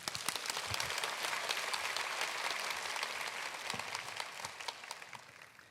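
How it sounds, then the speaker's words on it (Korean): A church congregation claps in welcome at a summer prayer service, steady dense applause held at an even level throughout, with scattered sharper claps standing out near the close. "감사의 마음으로 여러분 박수로 환영하겠습니다"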